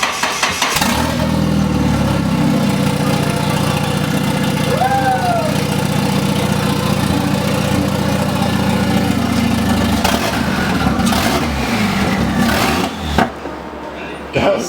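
A Nissan 240SX fitted with a budget turbo kit runs close by, a steady loud engine drone with a brief rising whistle, settling near the end as people talk over it.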